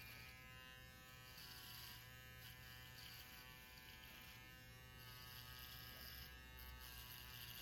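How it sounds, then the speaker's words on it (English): An electric foil shaver buzzes steadily and faintly throughout a children's haircut, a constant high-pitched electric hum with small shifts as the blade edge works along the hairline. "Open the way using the border of the foil shaver's blade."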